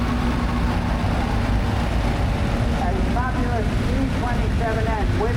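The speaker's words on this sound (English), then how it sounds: "This magnificent Farm Hall M next, the red one just coming in the ring." A red Farmall M tractor, American-built just after the Second World War, drives into the show ring at a country steam fair. A steady low engine rumble mixes with wind noise while a commentator talks over it.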